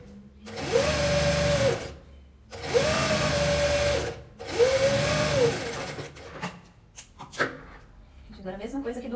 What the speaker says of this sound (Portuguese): vou costurar aqui, meio pezinho de máquina